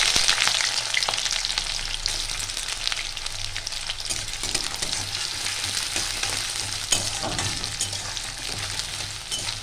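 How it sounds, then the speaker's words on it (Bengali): Chopped medium-sized onion frying in hot oil in a pan, a steady close, loud sizzle and crackle with occasional stirring scrapes throughout, no voices. "এবার দিয়ে দিচ্ছি একটা কুচিয়ে রাখা পেঁয়াজ, মিডিয়াম সাইজের"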